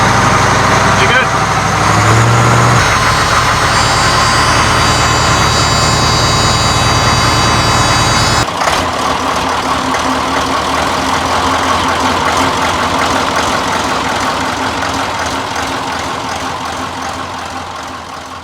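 A fire engine bought on eBay: loud, steady low engine rumble running close throughout with a brief higher whine early on, shifting in tone partway and slowly fading toward the end.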